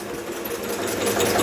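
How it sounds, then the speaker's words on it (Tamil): Internal combustion engine running on a test bench during a retardation test, a steady close-up mechanical clatter that stays loud and continuous throughout. "ஸோ இப்போ இன்ஜின் ஆஸ் யூஷுவல் ஆன் ஆகிடுச்சு."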